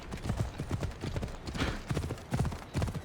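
Quick, regular clip-clop of horse hooves trotting in Assassin's Creed Odyssey, close and clear, with a crisp digital game-like quality.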